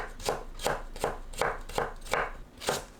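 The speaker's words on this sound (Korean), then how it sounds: "당근을 곱게 채 썰어줍니다" A kitchen knife julienning carrots finely on a cutting board, giving eight even, crisp chops in a steady rhythm, close and clear with no talk.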